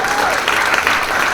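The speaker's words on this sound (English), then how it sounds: "How about another big hand?" Comedy club audience at the Palm Beach Improv giving a loud burst of applause, dense and continuous clapping with a few cheers, filling the room.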